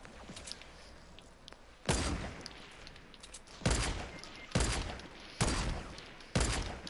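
Fortnite gunfire: five loud, sharp shots spaced about a second apart, each with a short rolling tail, over quiet ambient game noise with a few fainter pops at the start.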